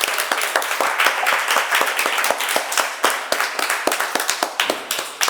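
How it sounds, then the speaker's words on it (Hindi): Applause from a studio audience on a Hindi television quiz show, dense clapping with sharp individual claps standing out, loud and close, steady throughout without talk. "एक बार जोरदार तालियां शिवानी ठाकुर जी के लिए"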